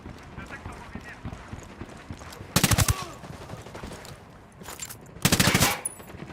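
Two bursts of rapid automatic gunfire in Ghost Recon Wildlands, a cartel firefight, each lasting under a second amid a low ambient bed, the second burst louder and longer.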